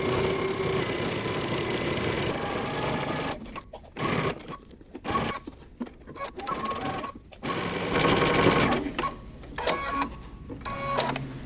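A sewing machine stitches all the way around a moto jacket in bursts of steady mechanical whirring, stopping and restarting several times with short pauses between runs.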